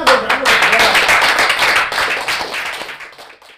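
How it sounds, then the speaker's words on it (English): A dense round of applause from an audience, many hands clapping at once, loud and steady before slowly thinning out toward the end. "Give him another round of applause."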